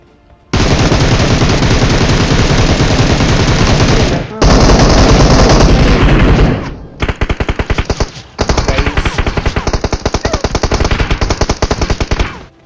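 Loud, close automatic gunfire in PUBG from enemy players, long rapid bursts with brief gaps between them, dense and continuous.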